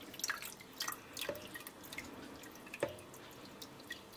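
Liquid rennet poured slowly into milk for homemade cheese, heard as faint drips and small splashes landing at irregular intervals.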